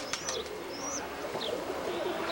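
Soft cooing from roller pigeons, with a few short, thin chirps and calls over a quiet, steady background.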